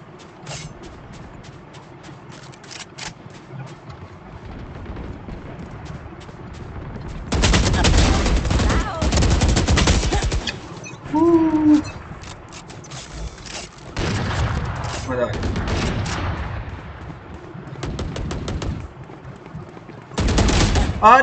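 Machine gun fire in a video game, loud bursts of rapid automatic shots in several separate stretches with quieter gaps between, close and dominant, with a brief voice between bursts.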